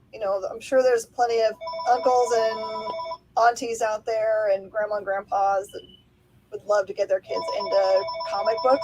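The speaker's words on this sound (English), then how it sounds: "Sorry about the phone." A telephone ringtone chirps in bursts in the background while two people keep talking over it in a shop conversation.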